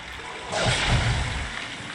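Flowing water in the Harry Potter and the Prisoner of Azkaban video game, a soft steady rushing that swells louder after the first half-second and holds as a continuous wash, with no talk over it.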